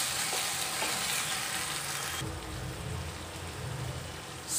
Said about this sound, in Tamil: லைட்டாக ஒரு ஸ்டிர் பண்ணுங்கள்.